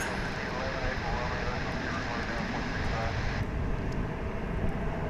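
Airliner taking off at DFW International Airport, a loud broadband jet roar sustained throughout, steady and near, with faint talk mixed underneath.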